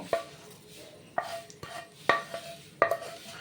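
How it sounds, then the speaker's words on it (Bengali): A whisk or spoon stirs batter in a bowl, giving four distinct clinking taps against the bowl's side spaced about a second apart, with soft swishing between them, close and fairly quiet. "ব্যাটারের মধ্যে দিয়ে ঢেলে তারপরে ভালো করে মিশিয়ে নেব।"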